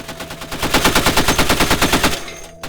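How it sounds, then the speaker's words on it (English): A machine gun fires a sustained burst during Navy SWCC live-fire weapons training, its rapid, evenly spaced rounds loud and close, then stopping abruptly. "you finally get to shoot the gun"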